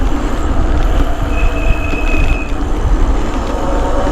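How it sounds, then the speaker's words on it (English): An e-bike's brakes squeal in a sustained high, thin whine for about a second, heard over loud rolling and wind rumble while riding along Scottish streets; no voices. "Get sick of the fucking brake squeal though."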